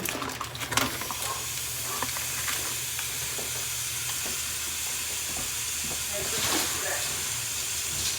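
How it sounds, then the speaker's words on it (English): Steak reheating in sesame oil in a pan, giving a steady, close sizzle and hiss throughout, with a couple of brief stirring or shifting swells near the start and later on. "we're just going to reheat our steak in that oil"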